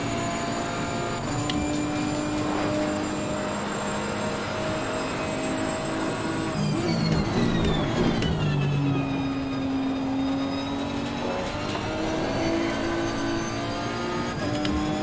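A Nissan Nismo race car at Monza in Assetto Corsa Competizione drones steadily at high revs, with upshifts, a downshift and braking, then acceleration again, loud and continuous without talk.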